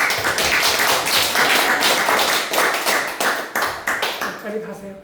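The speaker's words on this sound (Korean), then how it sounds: "자, 다시 한번 우리 김영란 자매한테 수고했다고 박수" A small group claps at a church Bible study session, uneven rhythmic clapping close by with a few voices mixed in, tapering off toward the end.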